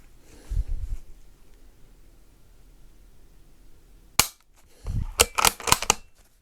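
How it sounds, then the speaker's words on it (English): Short, sharp mechanical clicks from dry firing a hunting rifle, a faint pair near the start and then a crisp snap followed by a quick cluster of clicks and clacks, close and isolated in an otherwise quiet setting. "What I like to do is just do a good dry fire, just so I get used to the trigger."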